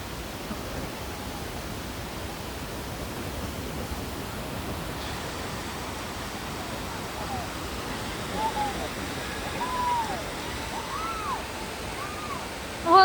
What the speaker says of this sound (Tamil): ஓ, தண்ணி ரொம்ப வருதோ?